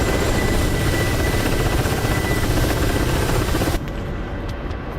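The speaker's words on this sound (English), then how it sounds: "Right now I'm in a KA-53 Black Shark." A Ka-52 Black Shark attack helicopter in a video game, a loud continuous rotor and turbine drone that drops suddenly in level near the end, with no voices.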